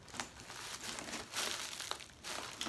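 Packing paper crinkles and rustles up close in several short bursts, light and dry, with no voices, as it is pulled from inside a new handbag.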